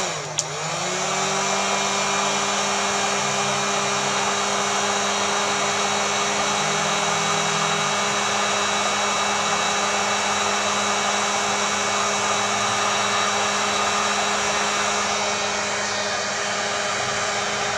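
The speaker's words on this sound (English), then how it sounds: "What I do, heat it lightly with a heat shrink." Near and steady, a heat gun blows hot air over heat shrink tubing on a wire joint, a constant whining drone that holds unchanged throughout with no talk.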